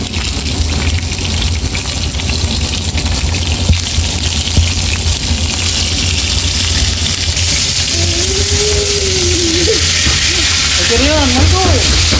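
Steady loud hissing sizzle of fish frying in oil fills the scene, with a voice briefly speaking near the end.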